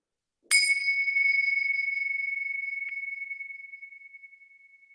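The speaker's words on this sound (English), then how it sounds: "I'm going to ring these bells" A single bell is struck once, a bright clear ring with sharp metallic overtones that hangs and slowly fades away over several seconds into quiet.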